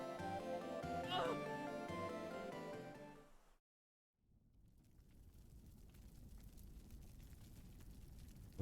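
Goblin enemies in the Secret of Mana Remake video game let out a cat-like meow over busy game music and effects, which cut to a brief silence before a rougher noisy stretch returns.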